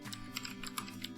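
Computer keyboard keys tapped in a quick run of light clicks, close and clear, as a folder name is entered, with no talking.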